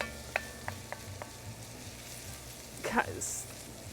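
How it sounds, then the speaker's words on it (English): Onions sautéing in a pot for corn chowder, giving a soft, faint sizzle with a few light clinks and scrapes, rising briefly near the end, with no voices over it. "It is going to continue cooking with the onions. Okay, so these are going to saute"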